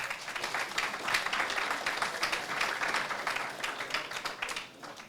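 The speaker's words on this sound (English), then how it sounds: "Let's give them a round of applause" Hearty audience applause welcoming secondary school students at a university launch event, a dense steady wash of many hands clapping throughout, slightly fading near the end.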